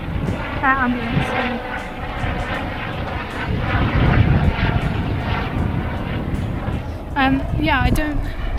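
A helicopter passes overhead above a nature reserve, a continuous engine drone that strengthens midway, with people chatting nearby and a few bird chirps on top.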